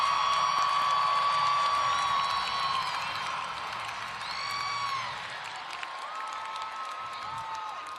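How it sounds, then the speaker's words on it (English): A Monster Jam arena crowd at Sacramento's Arena West applauds and cheers in a sustained, moderately loud wash, with whistles and sharp shouts rising over it. The noise eases slightly partway through before continuing. "Monster Jam fans, another round of applause."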